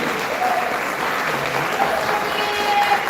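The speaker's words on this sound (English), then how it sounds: "let's get that applause going for Tanquak Dance Academy" An audience at a secondary school's annual awards and 40th anniversary celebration applauds a dance academy, steady dense clapping that holds at full strength through the short stretch.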